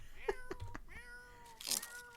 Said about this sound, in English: Constant meowing.